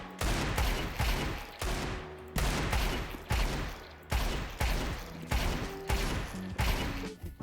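Gunfire in Counter-Strike 2 during an aim drill: repeated short bursts of loud, rapid shots, about ten bursts in quick succession with brief gaps between them, heard without any talking.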